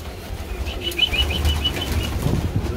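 Wings flap and flutter in a quick burst as a pigeon takes off inside a pigeon loft, with soft chirps and a low background hum.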